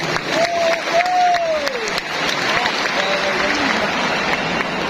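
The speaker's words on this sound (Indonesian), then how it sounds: "Tepuk tangan untuk semua yang memilih hadir di sini." Applause from a large crowd at a political rally speech in a stadium, a dense steady clapping with some cheering and a whistle, loud and continuous, with a voice over the top.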